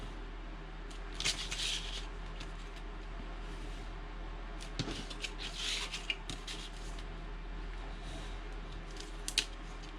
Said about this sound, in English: I am just going to come back and cut out around this template.